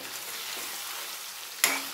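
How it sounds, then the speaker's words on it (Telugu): Chicken pieces coated in masala fry in a pan with a steady, close sizzle, and a brief louder crackle and stir near the end. "ఒక 5 మినిట్స్ ఇలాగే ఫ్రై అవనిద్దాం."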